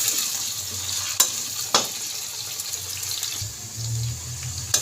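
Potatoes frying with green chillies and ginger in a pan for a spinach-and-potato curry, with a steady sizzle, a few sharp stirring clatters and no talk.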